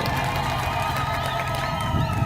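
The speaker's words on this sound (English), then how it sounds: "You should clap louder than that for your president." An audience in Dodoma claps and cheers for the president, a sustained mass of clapping and crowd noise over a low, steady hum, loud and continuous across the whole stretch.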